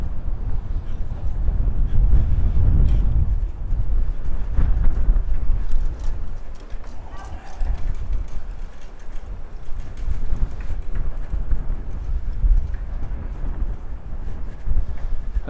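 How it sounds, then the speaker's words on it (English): Strong gusting wind buffets the microphone at a harbourside district in Copenhagen, a loud continuous low roar that swells and eases throughout. "hear something, but the wind is pretty brutal right now."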